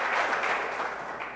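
A church congregation applauds in a dense, continuous wash of clapping that fills the room at a steady level and eases slightly toward the end.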